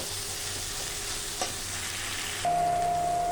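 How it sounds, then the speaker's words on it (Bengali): Pointed gourd pieces sizzle and get stirred in a hot pan; a steady frying hiss runs throughout and grows louder near the end, with a faint tone rising over it, and no one speaks. "এবার আমি দিয়ে দেবো পটল, ভালো করে কষিয়ে নেব।"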